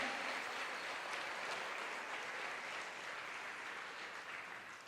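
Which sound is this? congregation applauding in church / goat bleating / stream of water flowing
congregation applauding in church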